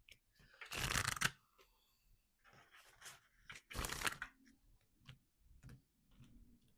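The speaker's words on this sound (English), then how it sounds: "Let me just shuffle that quickly." Oracle cards are shuffled by hand in two brisk, close riffling bursts, with softer taps and rustles of the deck in between.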